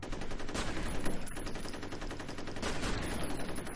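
Rapid gunfire and shotgun blasts from enemies in the F.E.A.R. shooter game, loud and dense bursts crackling continuously for several seconds with no talk over them.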